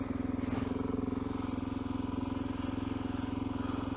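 A Suzuki DR-Z motorcycle idling while still cold, a steady close-up thumping engine rhythm that holds unchanged the whole time, with no voices.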